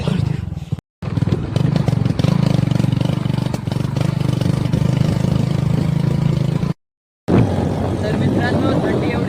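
A motorcycle engine runs steadily at close range, a low continuous drone carrying on for several seconds with two brief breaks, on a ride to the market on a cold day.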